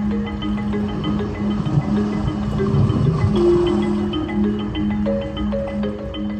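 Inside a 2023 Hyundai Ioniq 6 electric sedan, the built-in 'sailing ship' nature sound plays a steady wash of water mixed with soft sustained musical tones, continuous and moderately loud.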